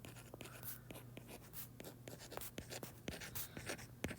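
Pen or pencil writing out multiples of numbers by hand for a fractions lesson, quick faint scratchy strokes and taps in an irregular rhythm, close up and alone without talk.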